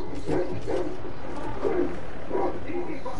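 A dog barking in The Escapist 2, several short barks spaced out in a rough rhythm over steady game background noise.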